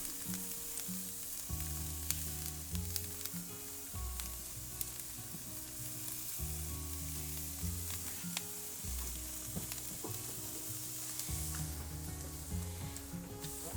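Wagyu steaks and prawns sizzling on a hot grill, a continuous faint hiss with occasional crackles and pops running throughout, fairly distant and quiet with no speech.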